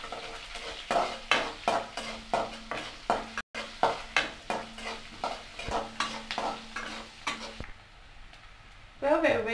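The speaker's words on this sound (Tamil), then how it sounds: "நல்லா வதக்கி விட்டுறலாம்" Onions with chana dal sautéing in a pan for an ivy gourd kootu, a spoon scraping and stirring in a steady rhythm of about twenty close strokes over a low sizzle.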